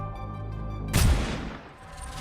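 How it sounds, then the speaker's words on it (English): A sharp rifle shot followed by a broad, rumbling distant explosion in the Goddess of Victory: Nikke video game, rising abruptly from a steady ambient bed and decaying over about a second. "Snow White fires her rifle. An explosion occurs in the distance"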